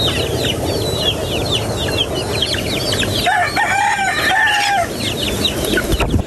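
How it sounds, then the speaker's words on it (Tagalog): A flock of chickens clucks busily and close, and a rooster crows loudly midway through, with constant rustling in the background. "Mabilis magparami si Bossing ng manok"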